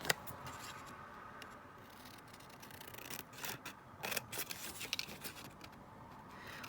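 Scissors cutting out paper pieces for a folio or lapbook craft project, heard as faint, intermittent snips and rustles close by, growing slightly busier toward the end, with no talking.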